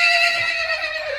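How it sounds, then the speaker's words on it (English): A horse seen in an unused field on Gili Meno, Indonesia whinnies in a loud, close neigh with a long wavering tone that trails off, a light hoof sound faintly underneath. "Got a horse."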